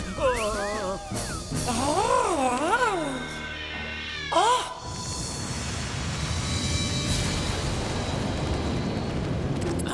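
Cartoon cats in a cat kingdom castle let out several loud, wavering meows, one after another, over the first half. A dense, roaring rumble then takes over and carries on to the end.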